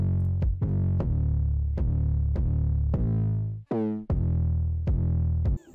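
Three layered kick drums in a hyperpop glitchcore beat, booming deep punchy hits with long sustained low tails repeating at a steady pace, loud and alone, with one quick pitch-sweeping glitch partway through.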